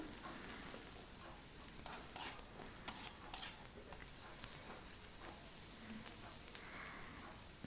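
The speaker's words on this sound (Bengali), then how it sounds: "তো চিনিটা দিয়ে আবারও পেঁয়াজটাকে একটু ভাজা ভাজা করে নিচ্ছি" Onions frying with sugar in a pan over a low flame for a Bengali katla fish curry give a steady close sizzle, broken by scraping stirring strokes throughout, with no talk.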